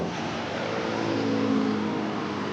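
An angkot, a blue public minibus, drives past on a street, its engine a steady, fairly loud rumble that swells briefly mid-pass against continuous traffic noise.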